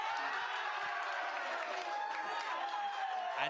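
A broad, steady wash of crowd noise from spectators at an esports match broadcast, with cheering and scattered clapping mixed in, dense and sustained throughout.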